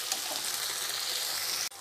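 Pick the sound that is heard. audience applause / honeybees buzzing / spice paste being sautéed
spice paste being sautéed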